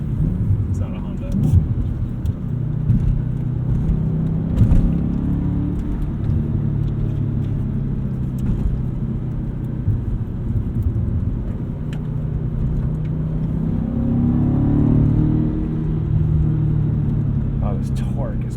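A 2007 Audi RS4 engine drones low and steady from inside the cabin, swelling slightly as it accelerates, with road rumble throughout and someone talking over it.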